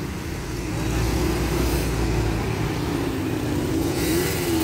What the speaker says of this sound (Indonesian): itu dia bus ALS 140 udah bergerak ya